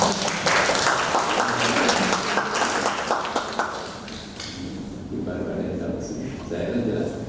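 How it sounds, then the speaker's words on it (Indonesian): Applause at a Ramadan charity event, dense clapping for the first four seconds that fades out as a voice starts speaking over the room. "Tepuk tangan."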